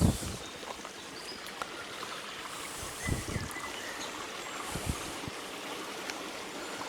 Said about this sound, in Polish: Kolejne kaskady